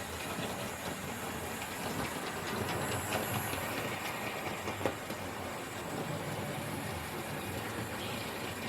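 A Hornby model train locomotive runs along its track on an old controller, giving a steady, continuous mechanical whir and light clatter at moderate level with no talk.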